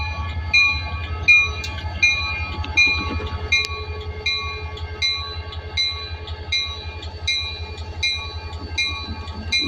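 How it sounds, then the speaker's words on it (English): An NS #3223 EMD SD40-2 diesel locomotive built in 1973, leading freight train G63 at Adel, Georgia, rumbles steadily past with a clear horn sounding throughout, and rail clatter keeps up a rhythmic pulse underneath. "We got another locomotive this morning"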